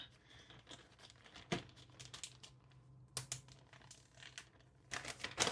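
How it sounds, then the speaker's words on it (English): Faint crinkling and rustling of a plastic bag being pressed shut around marinating steak, with scattered soft clicks and crackles that come in small clusters. "Seal the bag up."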